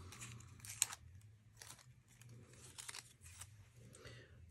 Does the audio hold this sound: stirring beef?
no